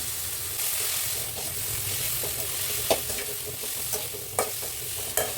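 Tomatoes with a pinch of turmeric sautéing in a pan for a mutton curry, giving a steady close sizzle and fry hiss with occasional scraping clicks as the mixture is stirred, and no voices.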